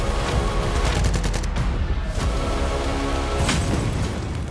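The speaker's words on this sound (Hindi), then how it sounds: "दरअसल उस दिन मालदीव की राजधानी सुबह सवेरे ही गोलियों की आवाज से जाग उठी।" Gunfire echoes through the Maldives capital in the early morning, a loud, dense, continuous barrage of shots that blurs into a roaring crackle with a few sharper bursts and no voices.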